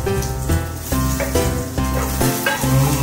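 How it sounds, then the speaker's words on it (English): Garlic and dry chili sizzle and fry steadily in hot oil as they are stirred, a loud continuous crackle with no talking. "add the garlic and dry chili that we have prepared."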